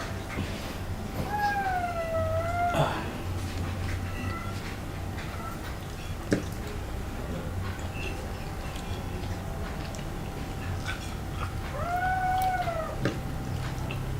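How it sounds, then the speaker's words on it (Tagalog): Two new kittens mew in high, rising-and-falling calls: a pair of meows near the start and another pair near the end, over steady background hum and household clatter, with faint voices in the distance. "May bagong dalawang kuting na naman po tayo."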